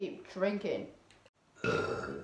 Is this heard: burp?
yes